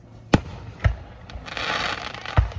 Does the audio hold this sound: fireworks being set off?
yes